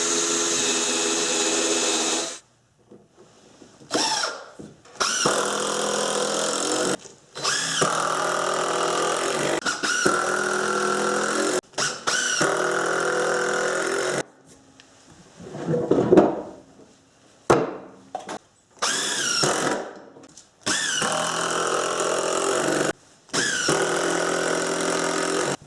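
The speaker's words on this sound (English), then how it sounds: "now I drill my pilot holes" Bursts of a power drill whirring into wood while drilling pilot holes, several runs of a few seconds each separated by short pauses, close and loud, with no talking.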